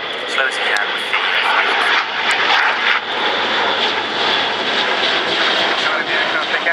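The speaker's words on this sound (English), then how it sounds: "It's fully configured for landing, but it'll be flying through, obviously, 700 feet." An Airbus A400M military transport aircraft configured for landing flies past low at about 700 feet at the RIAT airshow, a loud continuous turboprop roar throughout, with a commentator speaking over it.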